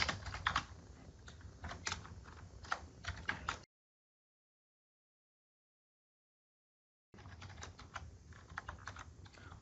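Computer keyboard typing of equations comes in close, quick bursts of clicky keystrokes. A few seconds of dead silence break the typing before the tapping resumes at the same brisk pace.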